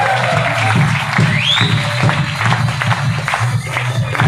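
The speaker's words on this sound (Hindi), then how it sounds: "इतना ताली बजाना चाहिए कि सर को दोबारा फिर से लौट जा रहा है स्टेज पे" Applause from a seminar audience in Bilaspur, Chhattisgarh, rolls on loudly and continuously with rhythmic clapping, while someone speaks over it through an amplified microphone.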